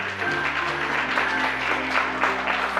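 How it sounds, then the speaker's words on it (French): An audience at an events trade fair in Metz applauds after a men's, women's and children's fashion show, a steady wash of clapping over background music. "On peut encore les applaudir bien fort."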